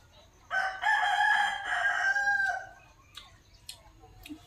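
A rooster crows once nearby, a loud drawn-out call lasting about two seconds, followed by a few short clucks and faint bird sounds in quiet surroundings.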